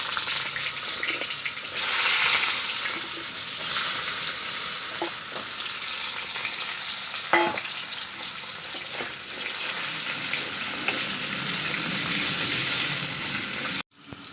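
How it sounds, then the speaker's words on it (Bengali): Cut potatoes frying in hot oil for a pabda fish curry, producing a loud, continuous close sizzle that swells and settles, with a few scraping stirs and a brief clank, then an abrupt stop near the end. "আলুগুলো এখন আমি ভেজে নেব।"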